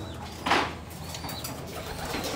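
Racing pigeons in a loft colony make a single soft coo near the start, followed by faint background cooing and rustling.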